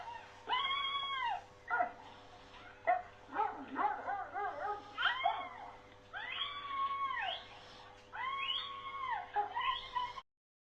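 A stray street dog in Diyarbakır barks repeatedly during an attack, loud, close and agitated, in uneven bursts with yelps and whimpering cries between, until it cuts off abruptly near the end.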